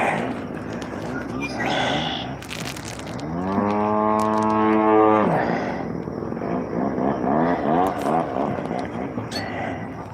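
A loud, steady model airplane engine buzz holds a strong rising-then-flat whine for a couple of seconds, with voices talking around it outdoors at a flying field.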